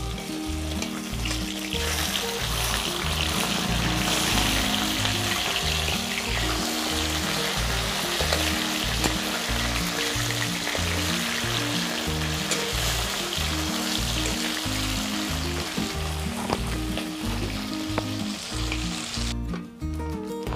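Falui fish sizzling in hot oil in a pan, a loud, dense frying hiss that stays constant throughout, with steady crackling and no speech.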